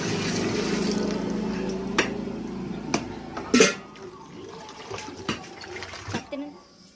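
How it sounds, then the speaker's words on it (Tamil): Four litres of milk pour into a cow dung and curd mixture for panchagavya, a steady liquid gush lasting a few seconds, then some scattered splashes and knocks of the container. "4 லிட்ரு பால் அதில் ஊற்றுறேன்"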